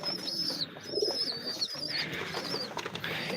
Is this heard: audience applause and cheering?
no